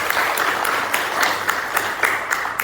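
An audience applauds at a digital tourism event, a steady moderate wash of clapping with occasional sharper individual claps standing out throughout.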